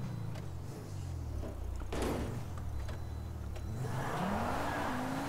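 A long car is driven in the video game GTA 5, its engine a low steady drone that rises in pitch as it accelerates near the end, with a few knocks and whooshes along the way.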